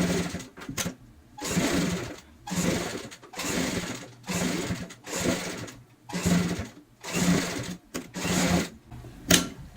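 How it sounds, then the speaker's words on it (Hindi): A sewing machine stitches T-shirt cloth for a homemade door mat, running in repeated bursts of about a second each, separated by short pauses, loud and close. "अब हम यहाँ पे आधा इंच का मार्जिन लेते हुए सिलाई लगाएंगे।"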